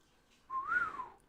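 A person whistles one short note that rises and then falls, lasting under a second. It is fairly faint and close, with quiet room tone before and after.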